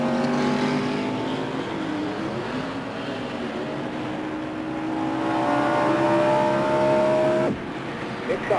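A NASCAR stock car runs wide open through a section of track, its engine holding a loud, sustained drone that climbs steadily in pitch, then briefly cuts off near the end before resuming.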